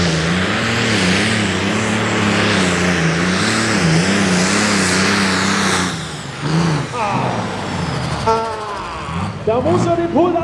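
A Pro Stock 3.5-tonne tractor-pulling tractor's engine roars loud and steady at a Füchtorf pulling event, then cuts back and sputters as the throttle is released, with a commentator talking over it.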